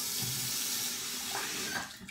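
Water runs from a bathroom sink tap during face washing, a steady close hiss and splash lasting throughout, with faint shifts as hands move under the stream.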